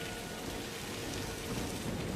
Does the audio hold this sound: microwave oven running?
no